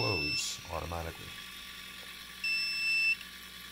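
A FRANKEVER water leak sensor resting on a wet paper towel gives off two short, steady high electronic beeps, the first near the start and the second longer tone later, with a brief stretch of speech in between.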